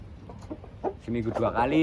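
Roosters and hens cluck in a coop on a rooster farm, short irregular calls building toward a louder, longer squawk at the end, close by with some soft background noise.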